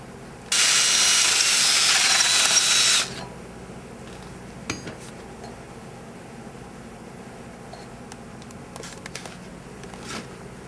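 A power drill boring a hole in a 2000 VW Golf during emergency brake cable work: one loud, steady burst of whirring and grinding lasting a few seconds, then quiet with faint clicks and handling noises.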